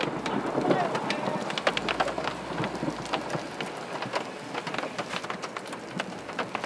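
Heavy rain pours steadily through a violent thunderstorm, with dense crackling raindrops and low rumbling thunder underneath, a continuous loud wash close to the microphone.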